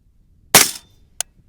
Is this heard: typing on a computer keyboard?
no